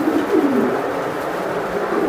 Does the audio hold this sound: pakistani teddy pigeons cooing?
yes